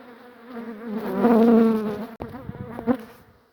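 Bees swarm around a beehive being relocated at the Lake Goldsmith Steam Rally, a close, steady buzzing that swells and fades, broken by a sharp click and a few clunks.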